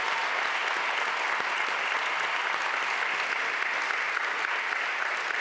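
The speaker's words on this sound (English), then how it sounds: "Can we give Anita and Aaron a round of applause once again?" A large audience at a school district's state-of-the-schools address gives honored teachers a round of applause, steady, dense clapping sustained evenly for over five seconds without speech.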